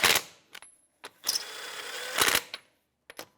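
A ratchet with a 21mm socket snugs the strut bolts on a 2009-2014 Nissan Maxima, giving several short close clicking bursts and one longer run of rapid ratcheting, separated by quiet gaps.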